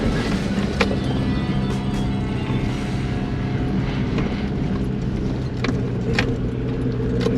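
A 4WD vehicle pushes through a slushy, deep dirt track, its engine a loud steady rumble with mud and water churning and occasional rattles, close and continuous with no talk.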